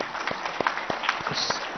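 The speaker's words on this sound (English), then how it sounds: "who really deserve a big round of applause" An audience claps for an Industry and Commerce Department team at an industry launch event, a steady dense patter of many hands filling the whole moment at a moderate level.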